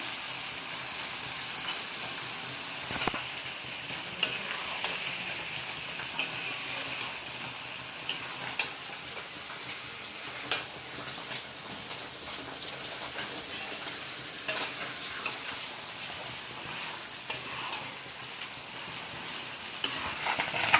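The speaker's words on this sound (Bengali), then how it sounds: "আর এদিকে মাছ ভাজা হচ্ছে, গুঁড়ো মাছ" Small fish frying in hot oil in a heated kadai, a steady broadband sizzle that runs throughout, with occasional spatters, pops and faint utensil clinks.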